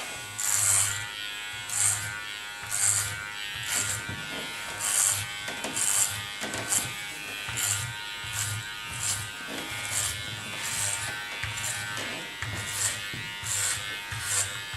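Electric hair clippers buzz steadily while cutting hair short at a 6 millimeter setting, the motor hum rising and dipping in repeated strokes at close range with no talking.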